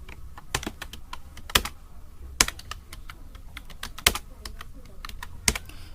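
Rapid typing on a computer keyboard while naming a file, with irregular bursts of sharp key clicks and several louder keystrokes spaced through, close and clear against a quiet room.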